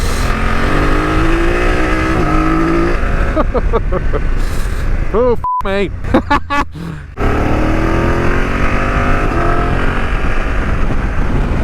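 A BMW F900 GS motorcycle ridden fast along sweeping road sections, its engine and wind roar steady and loud throughout, dipping briefly in the middle, with a rider talking over it.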